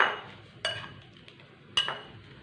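A spoon stirs fried potato and coriander into an omelet batter in a bowl, with two sharp clinks of metal against the rim separated by quieter scraping, close and fairly clear, no talking.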